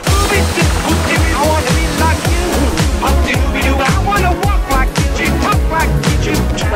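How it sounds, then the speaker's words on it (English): Loud, continuous rushing roar of a waterfall during a family vacation, filling the whole clip with a steady rhythmic beat pulsing underneath. "Waterfall number two."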